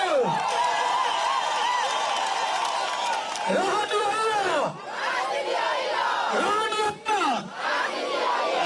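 A crowd at a gathering applauds and cheers for the county governor, with loud, sustained collective shouting and ululating rising and falling in waves over claps.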